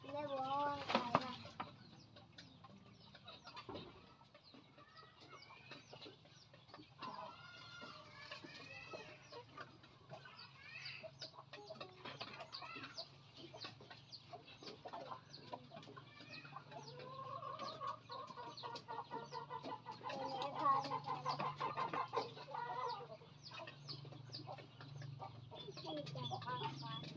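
Chickens cluck and murmur repeatedly at close to moderate distance on a farm, with occasional louder calls over a low steady hum and soft talk in the background.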